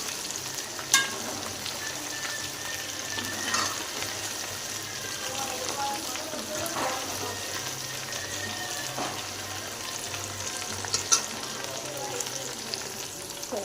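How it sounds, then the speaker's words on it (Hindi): Chicken pakora deep fries in oil with a soft, continuous bubbling sizzle, fairly quiet and steady, broken by a few brief clinks or stirring knocks. "तो इसे 3 से 4 मिनट तक फ्राई करेंगे।"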